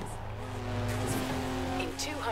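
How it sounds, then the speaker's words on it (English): A turbocharged flat-six car engine in the video game Forza Horizon 4 drones steadily with sustained tonal hum, a brief rise in pitch and faint tire squeal, against continuous background game sound. "with a turbocharged flat six and what I think is the most beautiful chassis of any car"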